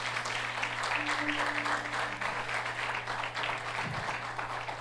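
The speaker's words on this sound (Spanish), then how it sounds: "Denle ese aplauso al Señor, déselo." A church congregation applauds during a service, a fairly quiet, even wash of clapping from many hands beneath a steady low hum.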